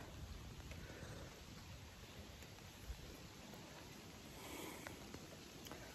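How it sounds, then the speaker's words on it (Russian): Steady rain falls in a soft, even hiss, fairly quiet and distant, with occasional faint drips standing out, heard from a kayak. "Дождь не прекращается."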